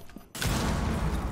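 A shotgun blast from Rainbow Six Siege hits hard after a brief quiet moment, then gives way to a loud, dense rumble of gunfire and impacts that continues to the end.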